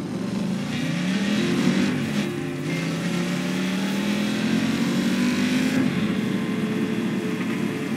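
Car engine revving and accelerating in Just Cause 3, loud and close, the pitch climbing in long sweeps over steady road rumble, with no voices.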